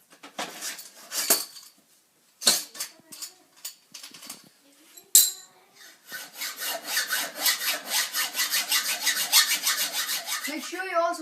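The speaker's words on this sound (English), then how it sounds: "you have to cut 10 centimeters off your scooter" Scattered scraping and clanks give way to steady back-and-forth hand sawing through a metal scooter frame, rhythmic strokes building in pace, close and fairly loud.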